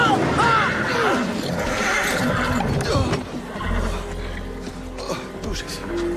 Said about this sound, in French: Aidez-moi à dételer ces chevaux, vite.